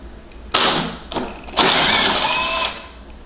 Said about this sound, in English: I'm gonna be using an impact drill just to save some time